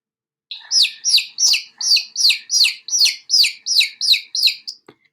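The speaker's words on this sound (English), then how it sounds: "A chick goes by chirping." A farmyard chick chirps in a quick series of about eleven bright, evenly spaced peeps, close and clear, ending with a faint click.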